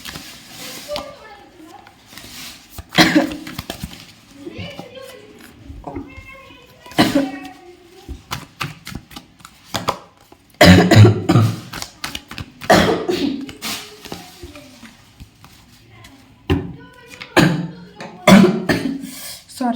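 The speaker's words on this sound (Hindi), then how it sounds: "थोड़ी खांसी है" A woman coughs several times between stretches of her own talking, short close throaty bursts during a Hindi tarot reading.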